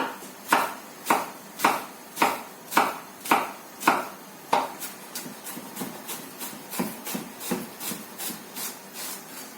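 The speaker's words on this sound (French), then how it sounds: "Vous la prenez, vous la sectionnez dans la longueur." A knife slices a spring onion lengthwise with a rhythmic series of scraping strokes on a board, evenly spaced and close. The strokes start fairly strong and grow fainter and quicker toward the end.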